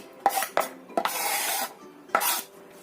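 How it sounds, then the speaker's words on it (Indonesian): A spoon stirs a tofu and chili mixture in a bowl, making four sharp clinks against the bowl with scraping between them. The sounds are close, clear and separated by short pauses. "Kita aduk tahu dan juga cabenya ini sampai tercampur rata."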